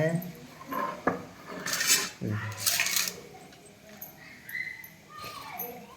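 A knife chops vegetables into small pieces for chicken fried rice, making scattered clinks and scraping knocks against dishes, some louder bursts, with someone talking at times.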